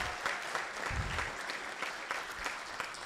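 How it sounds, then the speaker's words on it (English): An audience at a forum on illegal mining gives a steady round of applause, dense overlapping claps at moderate distance, running throughout. "Can we give him another round of applause,"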